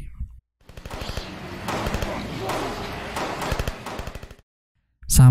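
Rapid bursts of film gunfire as soldiers shoot at zombies crackle in quick succession, loud and dense, with a brief silence before a sudden final blast.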